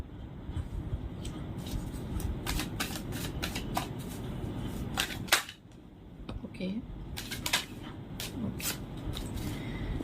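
Tarot cards being shuffled by hand, with a quick riffle of crisp card snaps and two cards slipping out of the deck, close and fairly steady, under faint voice-like murmur.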